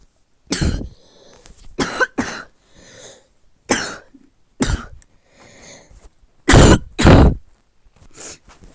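A person coughs in a series of sharp, harsh bursts, some doubled, spaced irregularly with quiet pauses between, loud and close.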